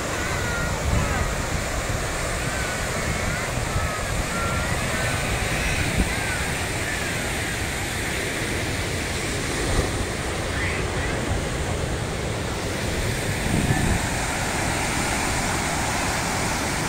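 Sea waves wash constantly onto the shore in Keelung, Taiwan, making a loud, steady roar of surf mixed with wind buffeting the microphone, and there is no clear talk.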